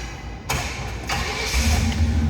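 A 1967 Pontiac LeMans convertible engine cranks and catches, then settles into a steady, low idle rumble, close and loud with no talking.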